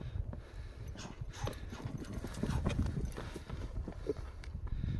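A racing horse's hooves clip-clop on rough ground in a steady, dense rhythm, loud and close throughout, with faint background voices.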